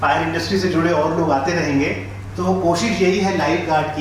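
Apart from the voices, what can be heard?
No distinct noise like a dog, phone or traffic.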